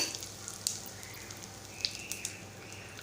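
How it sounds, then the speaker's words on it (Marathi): Asafoetida in hot oil on a low flame makes a faint, soft sizzle, broken by sparse small pops and crackles. "आता मी तेलात मी हिंग घालत आहे"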